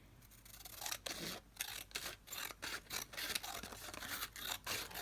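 Scissors cut thinly through craft material for a medieval costume piece, producing a quiet, close series of rhythmic rasping snips about twice a second.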